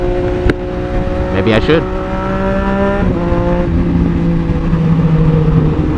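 Triumph Street Triple 765 RS motorcycle engine droning steadily as it rides, with a throttle blip and rising rev partway through, the engine note holding underneath as someone talks briefly.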